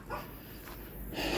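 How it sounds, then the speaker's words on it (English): A dog barks and whimpers briefly, faint and somewhat distant against a quiet background. "My vicious dog's going."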